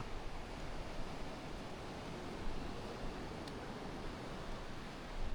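Sea waves wash onto a shore in a steady, dense broadband roar with gentle swells and some wind across the microphone, continuous and moderately loud, with no voices.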